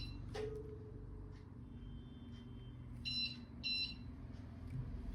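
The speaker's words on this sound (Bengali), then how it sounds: "এই যে দুবার পিপ পিপ করলো" A Bajaj BLDC ceiling fan gives two short electronic beeps in quick succession while pairing with its remote, following a faint click against a quiet room hum.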